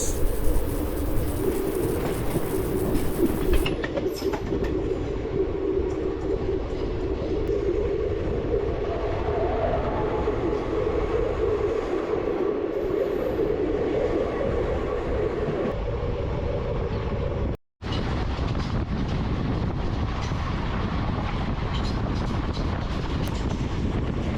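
Bhimavaram to Nagarsol superfast express train running near Kazipet Junction, a steady loud rumble of wheels and carriages with wind buffeting, a brief dropout near the end before the clatter resumes.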